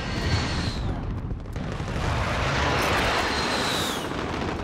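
A grenade explosion in the video game Call of Duty Modern Warfare booms loudly, followed by a long rumbling roar and lingering blast noise that swells again before fading.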